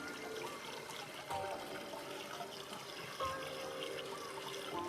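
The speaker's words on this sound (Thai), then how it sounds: "ตอนนี้เรามากรอกน้ำครับ" Water poured by hand into the priming port of a 1200 W centrifugal pump with a 2-inch outlet, a continuous close trickling and gurgling with small splashy surges, with no talking.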